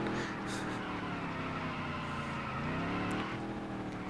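A race car with a damaged engine in the racing game Dirt to Daytona drones with a steady, throaty hum that rises and dips slightly in pitch as it runs, heard alone without talk.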